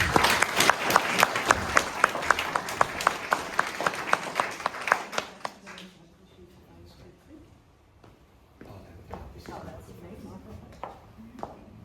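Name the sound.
audience applause welcoming a speaker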